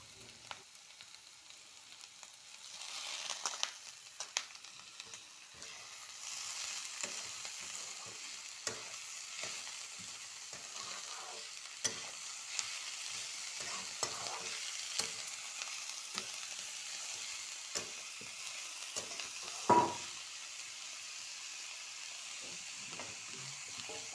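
Boiled cabbage for momo filling is stir-fried in a pan, giving a quiet hissing sizzle broken by frequent clicks and scrapes of a spatula, with one sharper knock near the end.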